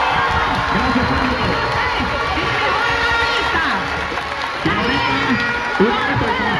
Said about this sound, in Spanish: Primero quiero unos aplausos para ellos hasta el cielo.